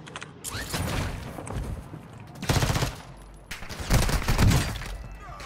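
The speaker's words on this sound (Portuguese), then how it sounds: "Da onde tá vindo esse tiro?" Bursts of automatic gunfire in the video game Call of Duty Warzone 2.0, several rapid volleys separated by short gaps, fairly close and punchy, with mechanical clicks between them.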